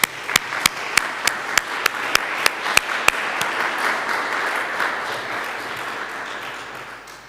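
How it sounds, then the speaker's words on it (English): Audience applause at a museum exhibition opening, with loud, regular nearby claps over a broad crowd patter that continues and slowly fades after the close clapping stops. "Thank you very much, and that's your applause."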